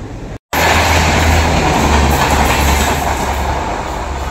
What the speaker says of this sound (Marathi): सकाळी CST वरून सुटणारी मांडवी एक्सप्रेस आता संगमेश्वर स्थानकात आली आहे.